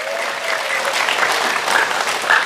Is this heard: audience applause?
yes